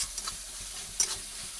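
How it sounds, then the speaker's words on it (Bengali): Spice paste for a Bengali fish curry stir-fried in oil in a pan, giving a quiet, steady sizzle with a few soft scraping stirs and one brief clink, alone without talk. "ঠিক এইভাবে কষে নেব আমি।"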